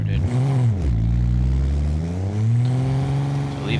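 BX vehicle in a Pepper Valley video game mod starting up, its engine turning over and then revving steadily, rising and falling in pitch, loud and close with no talk.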